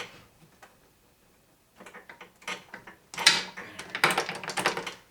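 An MGA/MGB three-synchro gearbox on a bench is shifted through its gears, with a few faint clicks at first, then a series of louder metallic clunks and ratcheting clicks close by.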